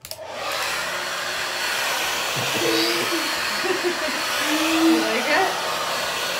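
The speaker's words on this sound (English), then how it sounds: "Okay, you ready for hair dryer?" A hair dryer switches on and blows with a steady, loud whoosh throughout, while a voice briefly speaks over it.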